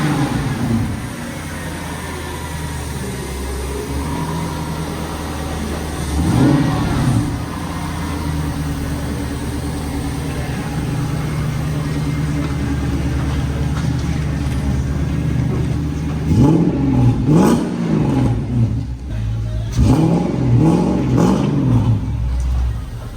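V8 engine swapped into a Volvo 240 sleeper, running steadily with a low rumble, then blipped in several revs near the middle and again in a cluster of throttle bursts toward the end.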